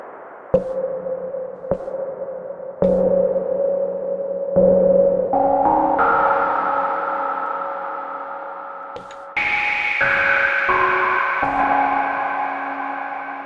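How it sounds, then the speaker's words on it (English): Roland S-1 synthesizer notes played through its reverb, a few plucked tones then rising layered chords with a gritty, lingering wash of echo, clear and steady with no talking. "You can get a gritty little reverb out of it"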